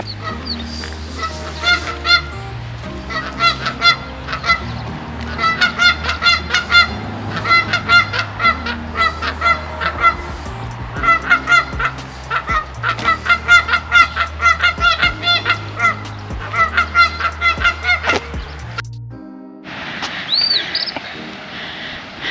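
Geese honk repeatedly at an outdoor goose sanctuary, overlapping loud calls from a flock in rapid, uneven bursts, then briefly cut off before a few more honks close by.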